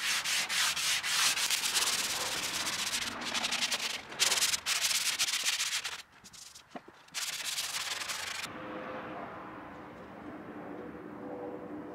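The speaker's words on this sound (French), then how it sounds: "j'ai pris une cale à poncer de finition pour pouvoir légèrement égrainer la dernière couche." A finishing sanding block rubs by hand across a varnished old wooden garage door in quick, close back-and-forth strokes with a few short pauses. The sanding stops after about eight seconds, leaving quiet background ambience.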